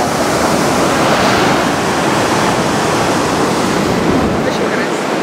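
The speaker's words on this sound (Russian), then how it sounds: "Шум воды." Loud, steady rush of river water flowing past the town hall in Bamberg, a continuous broadband roar that fills the whole clip without pause.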